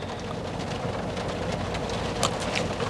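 Steady rain falls in Tagaytay, Philippines, a dense, unbroken patter close by with scattered sharper droplet hits and no voices.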